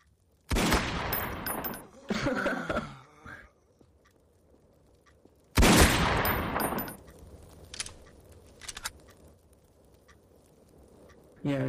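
Gunshots in the Garry's Mod video game, two loud bursts of rapid automatic fire separated by a few seconds of quiet, followed by fainter scattered sounds and another shot cutting in at the end.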